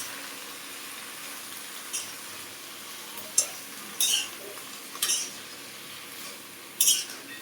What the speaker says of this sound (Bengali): এখন আমি শাকগুলো দিয়ে দিলাম, ডাঁটার শাকগুলো। এখন নেড়ে চলে যাবো।